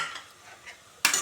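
A spoon scrapes and stirs through a pot of tomato pulao with potato, beans, carrot and capsicum, soft quiet scraping followed by a sharper clatter near the end.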